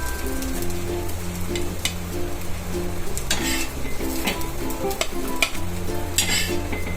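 Potato patties for ketless chaat fry crisp in a pan, a continuous close sizzle and crackle with intermittent stirring and scraping clinks, no talking.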